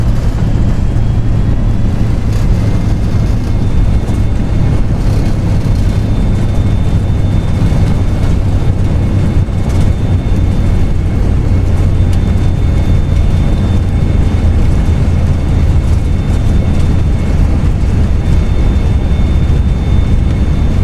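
An airliner's engines roar in reverse thrust during landing in the P3D flight simulator, a loud, continuous, even rush with a steady low drone and faint high whine that never lets up.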